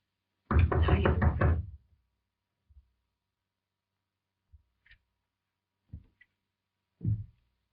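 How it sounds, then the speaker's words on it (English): Several light, scattered knocks on a door sound sparsely through quiet after a short stretch of speech, each tap brief and dull, spaced unevenly apart. "I thought I heard a knock."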